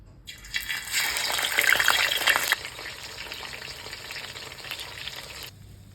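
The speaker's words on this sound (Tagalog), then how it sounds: "prito ko na yung galunggong" Galunggong (round scad) frying in hot oil, a loud crackling sizzle that flares up early, then settles into a steadier hiss before cutting off.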